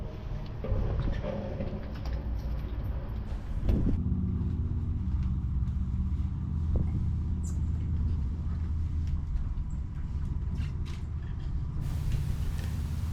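Traffic crossing a busy suspension bridge in Muroran, heard from up on the main tower: a steady, moderately distant rumble of passing vehicles with a faint wind-like hiss and occasional light ticks.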